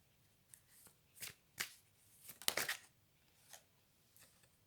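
Tarot cards are shuffled by hand in quick, soft riffling bursts, about half a dozen crisp flutters spaced irregularly, quiet and close with no talking.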